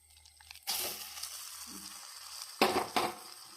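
Jackfruit and grated coconut fry in a pan, with a faint steady sizzle and two or three louder scraping stirs of a spoon against the pan.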